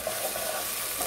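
Spices and tomato paste sizzle and hiss steadily in a hot pan while being stirred, a continuous close frying sound with soft scraping throughout.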